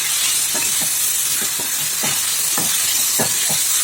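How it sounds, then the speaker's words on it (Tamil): Anchovies sautéing in hot oil in a pan, a steady bright sizzle with short stirring scrapes breaking through at a fairly even pace, close and alone without talk. "இது நல்லா இந்த எண்ணெயிலே வதக்கி விட்டுக்கலாம்."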